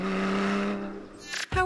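A Porsche Cayman engine under throttle, a loud, close, sustained engine note with steady harmonics for about a second before a brief break and a sharp burst of revving at the end.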